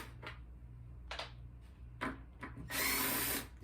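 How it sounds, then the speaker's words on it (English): A power drill whirs in short bursts, then runs longer as it drives a screw into a Horizon T101 treadmill, close and fairly loud. "I'm going to use my drill, which is way more quicker and efficient than this."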